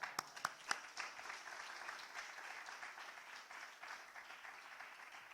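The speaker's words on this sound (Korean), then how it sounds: "박수로 환영하겠습니다" A church congregation applauds to welcome the pastor at a Friday evening worship service, a few sharp claps at first and then a steady, fairly faint wash of clapping that holds to the end.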